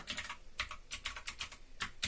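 Typing on a computer keyboard, a quick irregular run of crisp key clicks in close bursts, fairly quiet and alone.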